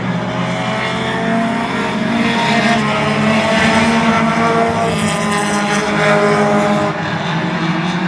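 Outlaw division race cars roar side by side for the lead on the Oyster Bed Speedway oval during a Labour Day race, a loud continuous engine drone that swells and fades as they pass.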